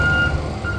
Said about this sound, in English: cement truck.